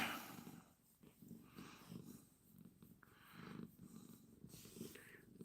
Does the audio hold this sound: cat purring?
yes